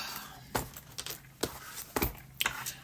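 Zipper on a stationery pouch pulled in short rasping strokes, five or six quick close-up zips spaced unevenly over a few seconds, with no talking.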